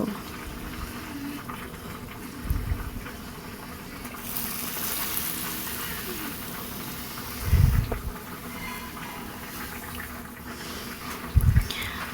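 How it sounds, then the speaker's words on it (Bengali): Batter-coated bread pakoda slices frying in hot oil give a steady, soft bubbling sizzle, with a few louder low thumps and brief brighter hiss bursts. "ব্রেডগুলোকে দুদিকে ভালো করে ব্যাটার লাগিয়ে তেলের মধ্যে ভেজে নেব"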